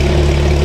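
A GT3 sports car engine revving with its exhaust valves closed, heard in a brief, loud, steady burst with a strong low droning tone and no voices.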